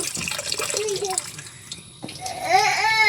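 Running water splashes and trickles steadily while fish is washed at a sink, with someone speaking over it and a brief clatter midway.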